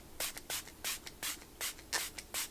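Short bursts of hissing facial setting spray mist repeat in a steady rhythm, about eight quick pumps, close and fairly soft with brief pauses between.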